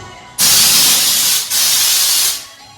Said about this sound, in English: that's how you're gonna spray it